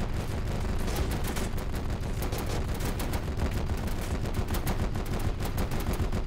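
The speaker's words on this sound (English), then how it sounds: "This little machine gun trencher is working awesome." Dense, continuous machine gun fire from a trench machine gun position in the World War II strategy game Men of War: Assault Squad 2, loud overlapping bursts throughout without pause or speech.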